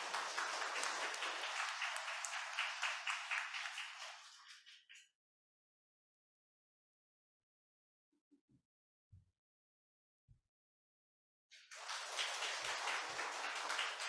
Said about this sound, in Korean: 모실 때 큰 박수 부탁드리겠습니다.